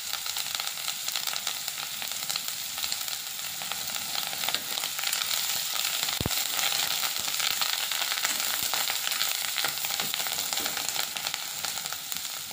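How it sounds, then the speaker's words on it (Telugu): Curry leaves sizzle and crackle steadily in hot oil for a pickle, a loud continuous frying hiss with scattered pops and no talking. "ఇప్పుడు కరివేపాకు వేస్తున్నాను."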